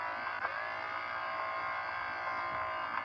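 A steady, faint electric whine hums without a break, like a motor running at constant speed, with no voices over it: an electric-sounding motorcycle engine in the video game Traffic Rider.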